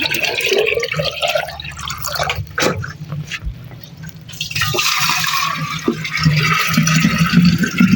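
Water dripping and trickling down outdoors in a village yard, a steady wet patter with a few sharper splashes and a low hum beneath, no voices.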